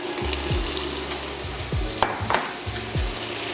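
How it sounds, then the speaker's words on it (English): Andouille sausage browning in extra virgin olive oil in a pan for red beans and rice, giving a continuous close sizzle broken by several sharp scraping stirs and a couple of utensil knocks. No one talks. "we're gonna go ahead and put our andouille sausage in there so that we can brown it"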